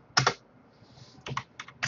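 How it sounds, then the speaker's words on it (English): Typing on a computer keyboard: a few quick clusters of close, crisp key clicks with short gaps between them, done one-handed. "Sorry if I'm not typing too fast."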